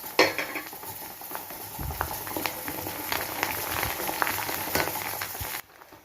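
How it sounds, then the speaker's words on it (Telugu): A tempering of garlic, mustard seeds, fenugreek, dried red chili and curry leaves crackles in hot oil, a soft continuous sizzle with light utensil clinks, close and moderate, cutting off abruptly near the end. "చూడండి, పోపు వేగుతుంది కదా"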